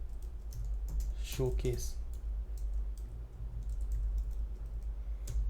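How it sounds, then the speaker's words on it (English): Fingers type on a computer keyboard while HTML code is written, quick irregular key clicks and taps continuing throughout, close and crisp, with someone speaking briefly over them. "begin a comment, press command / or control / and write"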